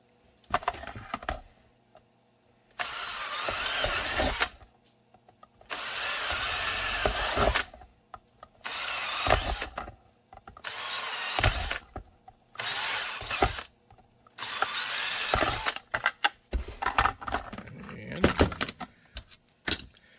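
A power drill runs in repeated short bursts of a few seconds each, with brief pauses and clicks between, fairly close by.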